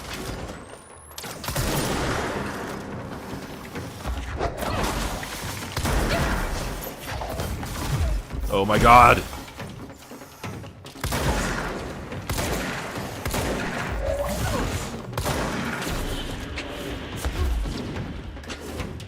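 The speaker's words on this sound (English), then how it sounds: "This guy should consider not shooting at me from afar." Enemy gunfire in the video game Control, a sustained spread of shots and impacts crackling through dense game noise, with a sharp burst near the middle and a startled voice exclaiming.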